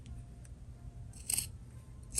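Fabric scissors make a few crisp, close snips while cutting material for a phone pouch strap, the blades closing in short separate bursts over a quiet indoor background.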